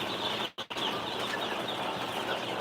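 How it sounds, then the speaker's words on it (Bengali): Young Tiger breed chickens, about 65 days old, clucking and rustling in a coop, a dense continuous flock murmur with a brief sharp dropout near the start. "আমার বাচ্চা মুরগির বাচ্চা আছে টাইগার মুরগির বাচ্চা বয়স পঁয়ষট্টি দিন"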